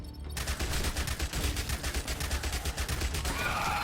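Submachine gun firing rapidly in a zombie survivors video game, a steady, evenly spaced stream of loud close shots running throughout with no pauses.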